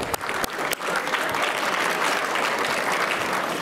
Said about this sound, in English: One more big round of applause for those two.